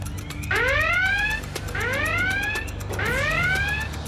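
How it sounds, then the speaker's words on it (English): An office high-water-level alarm sounds three loud rising electronic whoops in steady succession over a low constant hum, with no voices. "when the high water level alarm goes off"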